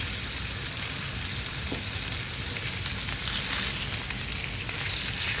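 Coriander chicken fries in a pan with salt, a continuous close hiss and crackle of sizzling oil that holds steady throughout, with no speech.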